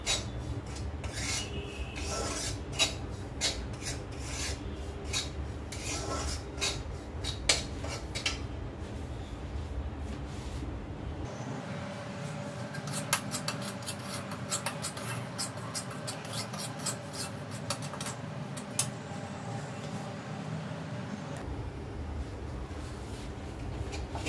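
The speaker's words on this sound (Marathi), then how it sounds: "आपल्याला हा रवा मंद गॅसवरती छान खमंग भाजून घ्यायचा आहे।" Semolina (rava) dry-roasting over low heat in a pan, stirred with a steady rasping, scratchy scraping that runs nonstop and close by, with a faint hum and a short quieter stretch midway, no voices.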